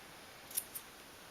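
Scissors trim the loose end of knotted T-shirt fabric with two quick, crisp snips close by in a quiet room.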